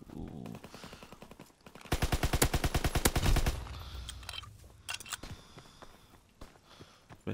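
Rapid automatic gunfire from a first-person shooter game, a loud burst of evenly spaced shots lasting about a second and a half, followed by scattered footsteps and lighter game sounds.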